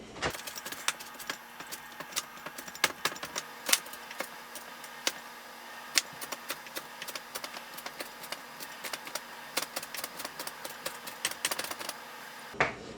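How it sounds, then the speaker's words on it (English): A knife finely dicing lemon zest on a cutting board, heard as rapid, irregular close-up tapping chops that continue steadily with no talk. "I'm just gonna go in and kind of dice, like really finely dice up this lemon zest"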